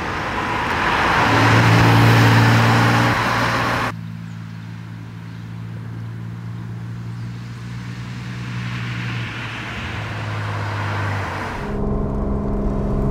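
A 1966 Porsche 911 SWB in original condition drives up fast, its engine droning loudly with rising and shifting tones, passing close with the pitch changing between gears, then idling on nearby.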